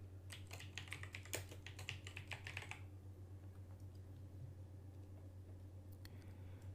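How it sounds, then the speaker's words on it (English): Rapid keystrokes on a computer keyboard while typing a name as a signature, a quick close clatter for the first few seconds before it stops, leaving a low steady hum. "type my name as a signature"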